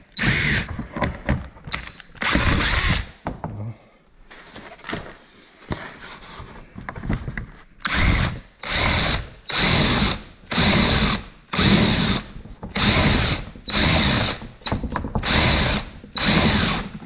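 A power drill bores a large 3/4-inch hole for a grommet while a Can-Am Defender hood light is installed. It whines in repeated short bursts, first irregular and then evenly spaced, loud and close, with no talk.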